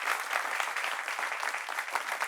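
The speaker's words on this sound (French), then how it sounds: "Applaudissements, s'il vous plaît." A studio audience claps in sustained, even applause, a dense patter of many hands that holds steady throughout with no voices over it.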